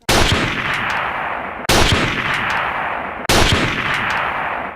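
Three loud, booming gunshots spaced evenly apart, each with a long rumbling tail that fades before the next blast.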